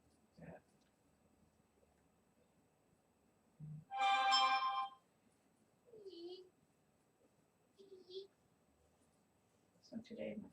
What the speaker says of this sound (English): So today my phone is making different noises.